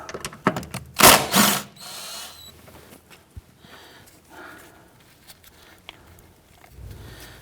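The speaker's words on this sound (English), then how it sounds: "There's a 10mm bolt right here. You want to loosen and remove that." Quick ratchet clicks loosening a 10mm bolt that holds the ABS wire on a 2011-2015 Kia Sorento, a loud burst of clatter near the start, then sparse faint ticks and handling noises close by.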